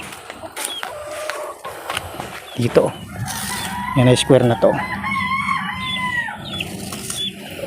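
A rooster and hens cluck and crow nearby in a Filipino backyard while someone talks over them, with bird calls rising in loud bursts through the middle and continuing beneath his speech.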